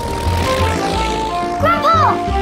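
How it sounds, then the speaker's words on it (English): A small cartoon airplane flies past with a buzzing propeller drone that rises and falls in pitch, a whistly swooping tone near the end, and a voice talking over it. "He can even fly off in my plane!"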